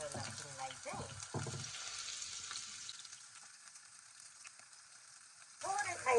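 Onion and garlic fry in a pan while chicken gizzard is being cooked, giving a soft, steady sizzle that fades quieter, with a person talking at the start and again at the end.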